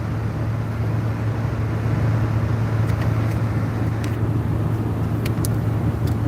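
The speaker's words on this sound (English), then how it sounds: "I just bought an appliance off Craigslist, and I'm driving it back home." A car drives along the road, heard from inside as a steady low engine and road rumble with tire noise throughout, joined by a few faint clicks and ticks toward the end and no voices.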